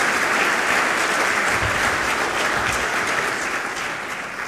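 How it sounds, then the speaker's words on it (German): Sustained audience applause at a university academic ceremony honouring award winners, including a Marburg physicist; dense steady clapping from a large crowd that fades slightly toward the end, with no talk over it. "das ist nochmal ein extra Applaus wert"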